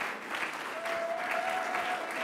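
An audience at a French export event bursts into steady applause, a dense even wash of clapping lasting a couple of seconds at moderate distance, with a faint tone running underneath.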